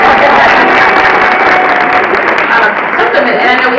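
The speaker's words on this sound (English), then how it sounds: "a round of applause" Crowd applauding at a community heroes award and 90th birthday party, a loud, dense, continuous clapping that fills the room, with cheering and chatter mixed in.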